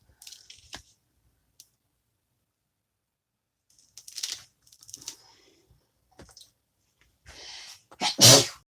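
A sneeze indoors during a paper-crafting session, a sharp loud burst near the end after a few small scattered sounds, with no talking.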